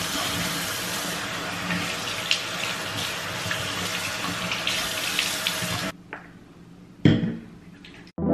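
A bathroom tap runs steadily for handwashing, a loud close stream that cuts off, followed by a short final splash and a brief gush of water.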